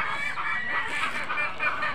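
A mother hen with her chicks, a steady stream of high chirping and peeping from the chicks close by, continuous over background noise.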